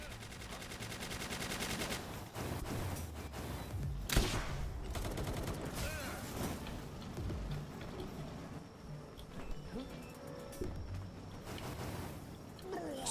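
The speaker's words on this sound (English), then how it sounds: "I always hate fighting in this next spot because of this minigun." A minigun fires in the video game Palworld, rapid continuous rattling gunfire with scattered louder blasts at moderate level, and a voice speaking over it at times.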